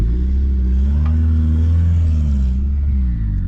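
Turbocharged Honda Civic engine rumbles and revs steadily, a loud close low drone with harmonic tones rising slightly mid-clip, no talk.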